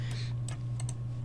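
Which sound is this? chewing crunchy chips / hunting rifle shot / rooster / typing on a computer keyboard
typing on a computer keyboard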